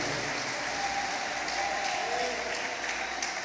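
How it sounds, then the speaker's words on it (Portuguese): A church congregation claps loudly and continuously, a dense, sustained wash of applause from many hands with faint voices mixed in. "Quem toma posse, aplauda bem forte ao Senhor."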